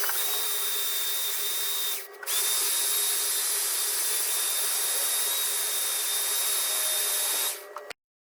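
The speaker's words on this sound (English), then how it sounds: "stuck it in a drill and started running it through" Power drill spinning ash wood while it is run through to form a dowel, a loud high whine that briefly drops out, then resumes steadily before cutting off, close with no talk.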